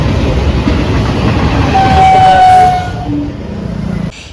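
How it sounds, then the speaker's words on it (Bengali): A train on a single-line track from Bankura rumbles loudly past at close range, wheels clattering on the rails, a brief horn sounds midway, then it cuts off abruptly. "বাঁকুড়া থেকে একটাই ট্রেন যায় আর এটাই আবার ঘুরে আসবে"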